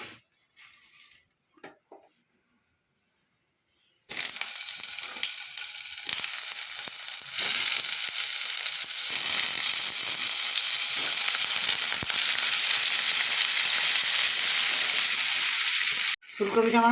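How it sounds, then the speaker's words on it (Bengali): Cauliflower hitting hot mustard oil in a wok erupts into a loud, continuous crackling sizzle after a few seconds of near silence, then keeps frying steadily up close. "এবার আমি ফুলকপিটা ভেজে নেব।"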